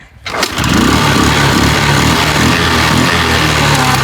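An Activa scooter is kick-started: a brief silence, then the engine catches and settles into a loud, steady, buzzing idle close by.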